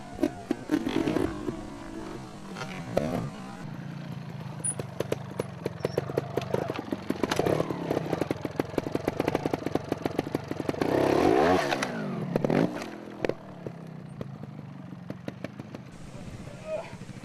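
A DT trials motorcycle is ridden over obstacles with short throttle blips and revs, its engine buzzing and clattering up close while a voice talks over it.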